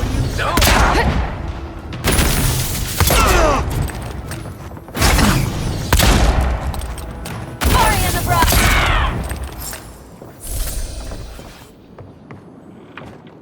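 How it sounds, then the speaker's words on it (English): Gunfire during combat in the video game Avowed, repeated loud bursts of shots and impacts in clusters, mixed with battle noise and character voices speaking. "Good shooting, Kai."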